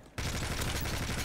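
Automatic gunfire from a gun in Call of Duty Modern Warfare 3 bursts in abruptly after a brief quiet and continues as a loud, dense, unbroken volley.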